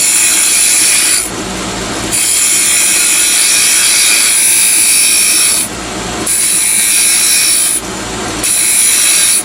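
A wooden chess king is shaped on a lathe with a spindle roughing gouge. Loud, steady cutting hiss comes in long bursts, broken by several short pauses as the tool lifts off the spinning wood.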